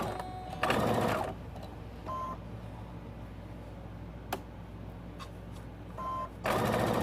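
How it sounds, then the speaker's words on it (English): A home sewing machine run by foot pedal stitches a pillowcase dress sideways, with bursts of machine whir starting and stopping over a few seconds, loud at the start and end and quieter between. "I'm sewing I'm sewing sideways here."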